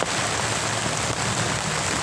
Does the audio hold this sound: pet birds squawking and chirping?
no